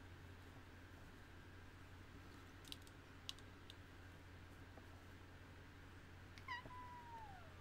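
A cat gives a short rising-then-falling warning yowl near the end, quiet and fairly close, after a few faint clicks in an otherwise hushed indoor room.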